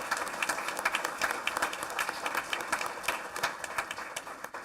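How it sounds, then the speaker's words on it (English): Scattered applause from a modest audience at a school board meeting after an oath of office, fairly faint with distinct individual claps pulsing unevenly throughout. "Please join me in giving a big round of applause to Mr."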